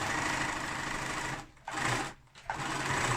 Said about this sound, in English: So you sew all the way up till about 1 centimetre before that little mark.